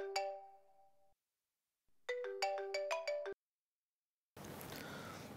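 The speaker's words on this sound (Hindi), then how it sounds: "तुम्हारा फोन कब से बज रहा है." A mobile phone ringtone plays in a quiet room at night, a melodic tone sounding, pausing, then repeating in a louder burst of rapid notes before stopping.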